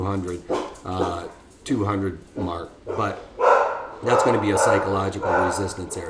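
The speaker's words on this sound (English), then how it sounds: "Sorry about the dogs in the background while I try and get through this." Dogs bark in the background, several short, loud bursts that repeat throughout, mixed with someone talking steadily over them.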